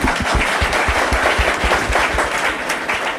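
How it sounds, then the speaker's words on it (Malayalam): Audience at a church retreat clapping in a lively, sustained round of applause, dense overlapping claps at steady loudness throughout, without voices. "കൈയടിച്ച് കർത്താവിനടുത്ത്"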